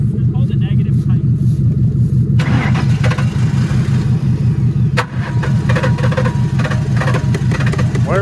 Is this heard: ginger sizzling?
no